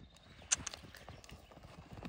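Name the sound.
horse hooves clip-clopping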